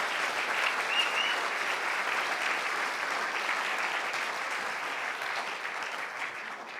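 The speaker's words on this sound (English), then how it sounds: "So if we could give Paulina just another round of applause." Audience applause at a community storytelling event, a dense, even wash of many hands clapping from a sizable crowd, sustained and steady before tapering slightly at the end.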